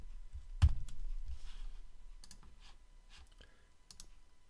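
A few scattered keystrokes on a computer keyboard, sharp isolated clicks spread across a few seconds over a quiet room background.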